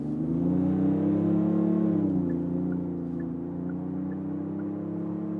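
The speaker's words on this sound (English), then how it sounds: "Let's put it here to sports mode and start from 40 kilometers an hour and accelerate out and test the high-speed capabilities" A Genesis GV80 in sports mode pulls away from 40 km/h on the Autobahn, its engine a steady, smooth hum that rises slightly in pitch, heard from inside the cabin with no talk.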